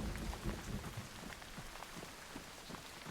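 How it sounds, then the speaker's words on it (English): Steady rain in the video game Once Human patters on surfaces in a dense, even hiss with scattered drop impacts, faint distant rumble underneath, no speech. "Listen to that rain."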